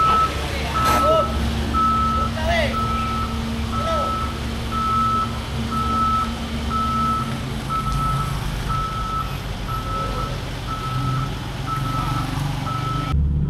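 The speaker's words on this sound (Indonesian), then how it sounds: "terlihat ya alat berat tadi pindah ke area sini ya" Heavy construction equipment moves on a large concrete wall building site, its reversing alarm beeping in a steady, evenly spaced series over a rumbling engine, with a few other sounds in the background.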